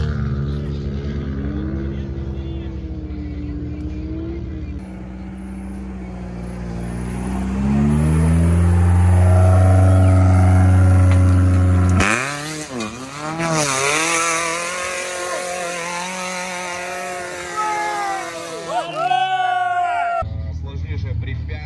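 An off-road trophy sprint vehicle's engine, restarted after stalling in water, runs with a loud, uneven drone that rises sharply and then settles. A person talks over the engine in the latter half.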